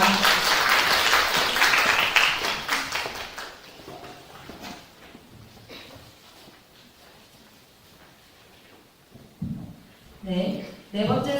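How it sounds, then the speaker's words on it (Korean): Loud audience applause follows a student's paper presentation at a third-year academic festival. Dense clapping fills the first few seconds, then thins and fades into quieter room noise, with voices stirring near the end. "뜨거운 박수 다시 한 번 더 부탁드립니다."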